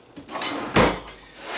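A drawer on a workshop table slides open and shut, a soft scrape followed by a sharper wooden knock and a brief rattle, close and alone.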